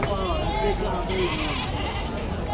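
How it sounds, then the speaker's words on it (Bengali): Goats bleat a few times amid the crowd bustle of Gabtoli cattle market on Eid morning, with people talking nearby over a constant background din. "যে এখানে অনেক ছাগল আছে।"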